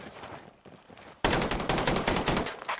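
Gunfire in Call of Duty Cold War: scattered shots at first, then a sudden loud burst of rapid automatic fire that rattles on to the end.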